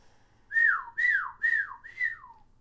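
A person whistles a call of four clear, evenly spaced notes, each sliding downward in pitch, close and alone.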